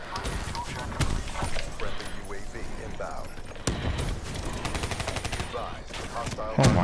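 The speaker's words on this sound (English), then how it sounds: "now a sentry gun" Gunfire from a video game sentry gun, with several sharp bursts and shots mixed among other game sounds and talk.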